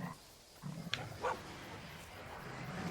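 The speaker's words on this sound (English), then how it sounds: "Bark." A few faint, short dog barks in the video game Monster Hunter Rise, two quick yips about a third of a second apart over a quiet ambient game background, with no talk over them.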